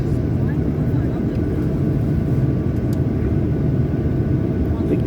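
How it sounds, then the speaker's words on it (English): A fixed-wing airliner takes off from Innsbruck Airport, its engines producing a loud, steady low roar and rumble that holds constant for the full stretch, with no talk. "Fantastic power and view for you for takeoff right now."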